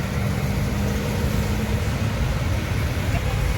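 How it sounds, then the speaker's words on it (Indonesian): Tour buses on a road in Indonesia, a steady, heavy rumble of engines and traffic close by, with people talking over the noise. "Banyak bus pariwisata ya teman-teman nih."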